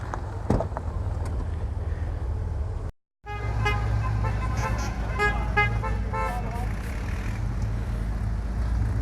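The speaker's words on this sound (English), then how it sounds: "Yellow one wins best horn." Citroën car horns toot in a series of bright, stacked honks amid steady engine and crowd noise at an outdoor centenary rally of classic Citroëns, with a brief dropout early on and voices faintly underneath.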